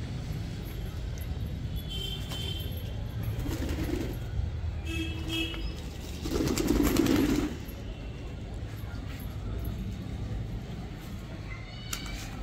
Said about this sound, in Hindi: सब अमरोहा में कबूतर है